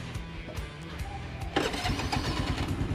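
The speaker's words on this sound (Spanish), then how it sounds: "Primero apretamos el freno embriague y" A Honda Navi motorcycle engine cranks with a short whirring starter, then catches and settles into a steady, close idle.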